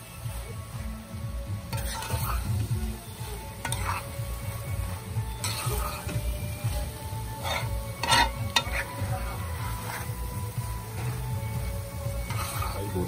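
Long beans (bodi) and potato frying in a pan, a low steady sizzle under repeated scraping stirs and occasional clinks of utensil on metal, close and moderately loud.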